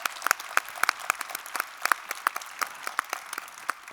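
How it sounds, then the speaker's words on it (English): An audience applauding panel speakers at a high-level conference, a sparse, moderately distant patter of many hands clapping with individual claps standing out. "Let's give all of our speakers a very warm round of applause, please, ladies and gentlemen."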